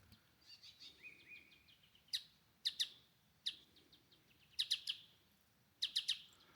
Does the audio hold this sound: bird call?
yes